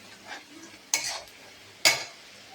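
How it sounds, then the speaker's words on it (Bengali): Onion frying in a pan and stirred with a utensil, with two sharp scraping strokes against the pan over a faint sizzle and soft stirring noises in between. "অনেকক্ষণ ভেজে নেব। আমার পেঁয়াজটা ভাজা হয়ে গেছে।"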